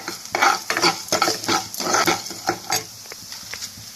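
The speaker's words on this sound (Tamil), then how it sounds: "மல்லி கொஞ்சம் வாசனை வர அளவுக்கு கொஞ்சம் வறுத்துருங்க அப்புறம் கடலைப்பருப்பு கருக விட்டுறாதீங்க" Coriander seeds and chana dal dry-roast in a pan while being stirred, giving a busy, continuous close-up scraping and rustling with light crackle.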